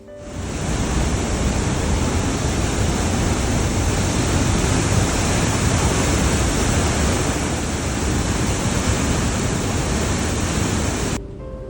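A roaring waterfall inside a dark tunnel at Lauterbrunnen, Switzerland, produces a dense, steady rush of water that stays loud and unbroken throughout, with no voices.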